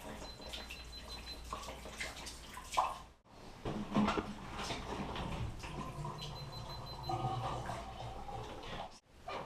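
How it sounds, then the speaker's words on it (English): Pink antifreeze is poured into drains and a toilet tank during a dry winterization, giving a continuous close splashing gurgle of liquid that runs almost the whole time, with a brief break. "We're going to pour the antifreeze into the toilet tank."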